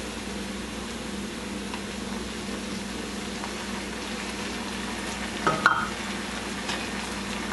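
Ginger garlic paste fries in a pan with eggplant, giving a soft, continuous sizzle with a low steady hum and one brief clatter partway through.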